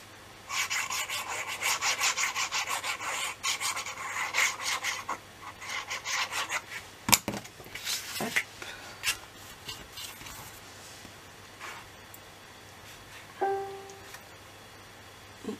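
Steady hand scraping rasps back and forth in close, rhythmic strokes, dense at first and then thinning into scattered scrapes and a few sharp knocks, with a faint background hum throughout.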